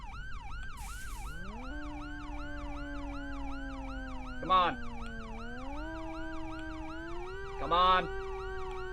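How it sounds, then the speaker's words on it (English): A fire department vehicle's siren wails without a break in a video game, with a rapid yelping pattern over a lower rising tone. Two short horn blasts cut in, and someone speaks briefly over it. "let's go ahead and use some sirens to get out of this area because this is ridiculous."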